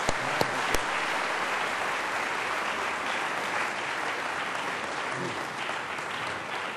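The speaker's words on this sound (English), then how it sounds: "let's give Mr. Rapp a round of applause" Steady applause from an audience honoring a guest speaker at a speaker series, filling the room evenly for several seconds with a few sharper claps near the start.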